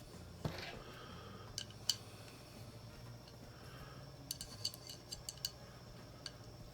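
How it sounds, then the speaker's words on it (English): Sparse, faint metallic clicks and small clinks of screws being taken out of a corner of a Voron 2.4 3D printer's frame, arriving in scattered bursts over a low steady hum. "get those screws out of there"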